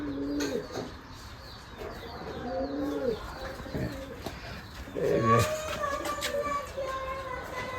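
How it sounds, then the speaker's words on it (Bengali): Several Giribaj pigeons coo repeatedly in low, rolling calls on a pigeon farm, overlapping one another nearby, with some brief chirps mixed in. "এটা হলো পিলং কবুতর"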